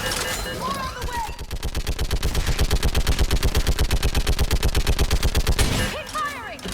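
Rapid automatic gunfire from the video game Mass Effect 3 hammers out in a long, even burst of loud shots lasting several seconds. Brief shouted voices come just before and after the burst.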